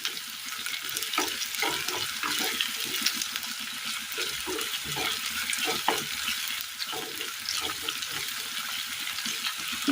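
Crushed ginger, garlic and slit green chillies fry with softened onions in a pan for a Kerala curry, a close, continuous sizzle broken by repeated scraping stir strokes of a spoon.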